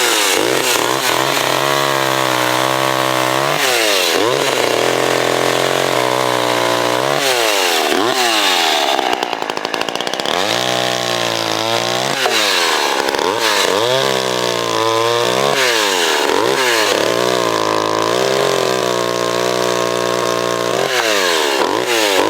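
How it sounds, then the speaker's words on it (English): A vintage Dynamark chainsaw running loud and close while cutting wood, its engine repeatedly bogging down into cuts and revving back up in long cycles, with no talking. "so I'll get the saw warmed up and be right back."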